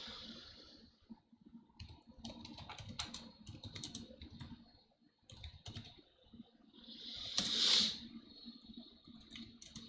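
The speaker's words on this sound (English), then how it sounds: "So, let's type it out." Typing on a computer keyboard, irregular bursts of soft close key clicks with short pauses and one louder clatter near the end.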